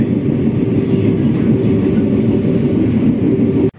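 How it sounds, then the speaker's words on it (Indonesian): The Ranggajati train rolls into Ketanggungan station with a loud, steady low rumble and constant roar that cuts off sharply at the end, no voices. "kereta api Ranggajati sampai di stasiun Ketanggungan"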